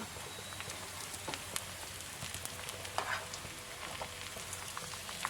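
Chicken pieces for chili chicken fry in hot oil, giving a steady, soft crackling sizzle with scattered louder pops, close by and with no talking.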